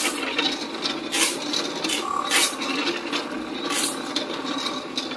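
An automatic coil winding machine for an e-bike water charger runs steadily on its own, giving a continuous mechanical whirring and clicking with periodic louder bursts, close and moderately loud.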